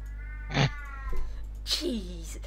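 A female cat meows twice with a pause between, the second call rising and falling in a drawn-out, plaintive tone, close by over a steady low hum.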